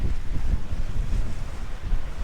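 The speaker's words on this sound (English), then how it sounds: "a little bit of breaking waves over the boat" Steady wind roars with the rush of waves breaking at sea over a sailing boat, a continuous, loud wash of noise with no voices.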